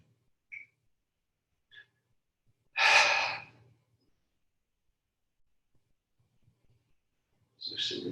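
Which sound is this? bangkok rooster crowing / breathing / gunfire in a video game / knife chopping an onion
breathing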